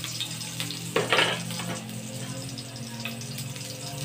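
Ginger sizzling in hot oil in a pan, a close, steady frying hiss with a burst of louder spattering near the start and faint utensil clinks, no voices.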